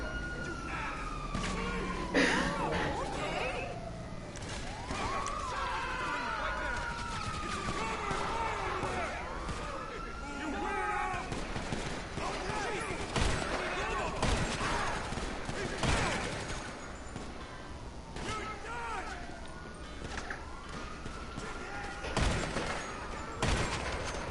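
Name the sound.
gunfire in GTA 5 video game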